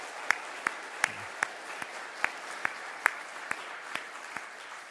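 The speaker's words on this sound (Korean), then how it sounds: "우리 찬양대 위해서 그리고 또 우리 현악반 위해서 다시 한번 뜨거운 박수 주시기 바랍니다." Church congregation applause for the choir and string ensemble at a Sunday morning service, heard as sparse, evenly spaced individual claps against a quiet, hissy room.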